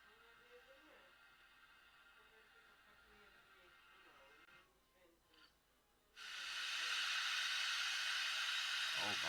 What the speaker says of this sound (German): Oh, Wasser.